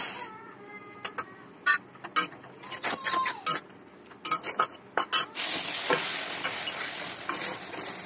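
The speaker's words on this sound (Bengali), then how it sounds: "দিয়ে দিলাম বাটা মশলাটা, এটা ভালো করে কষিয়ে নেব" Ground spice paste of cumin and onion for a small-fish chorchori is fried and stirred in a pan, with a string of close, sharp spoon scrapes and clatters that give way to a steady, loud sizzle.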